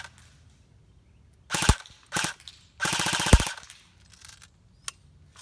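CYMA stubby AK-47 airsoft gun firing in sharp bursts outdoors: a short burst, a second brief burst, then a longer rapid string of shots with one final lone pop, loud and close with quiet gaps between.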